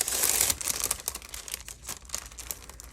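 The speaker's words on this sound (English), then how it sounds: "let me cut up this bag for sure because I think that's going to be kind of the base of it" Scissors cut up a bag for a junk journal craft project, giving close crinkling and crisp snipping that starts loud, then continues in uneven bursts of rustle and clicks.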